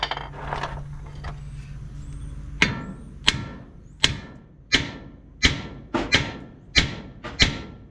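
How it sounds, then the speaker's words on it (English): A hammer strikes metal on a project vehicle in a series of about eight sharp, ringing blows at a steady, roughly evenly spaced rhythm, loud and close after some quieter knocks, with no talking. "Swinging that hammer"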